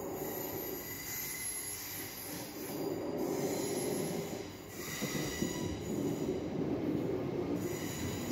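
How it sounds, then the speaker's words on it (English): At Pilning station the last train of the day rolls past with wheels squealing, a steady rumble topped by sustained high metallic screeches, fairly close, with no voices. "It's the last train of the day."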